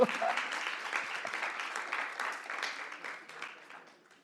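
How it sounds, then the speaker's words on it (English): A workshop audience claps in a moderate, scattered round of applause that starts full and gradually thins and fades out over about four seconds. "Yes, you want to clap, right? I want to clap too."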